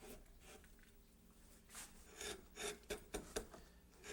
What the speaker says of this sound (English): it's just a matter of taking some gouges and roughing these out.